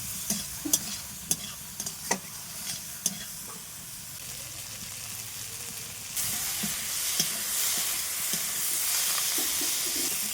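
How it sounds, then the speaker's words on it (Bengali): Spiced food frying in a pan after salt and turmeric are added, a soft sizzle punctuated by sharp spatula clicks and scrapes, then a louder, fuller hiss from about six seconds on. "নাড়াচাড়া করে ভালোভাবে ভেজে নেব।"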